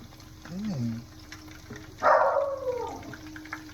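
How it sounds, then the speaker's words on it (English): A dog barks once in the background, a short sharp yelp, alongside faint running water and a low indoor hum. "I keep checking because he's barking out."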